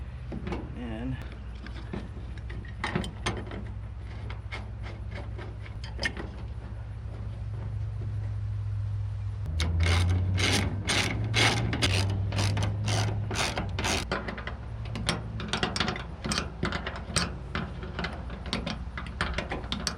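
Ratchet clicking in repeated bursts while tightening door bolts on a 1988 Chevrolet Suburban during a door shell replacement, close and fairly loud over a low hum, quickening in the second half.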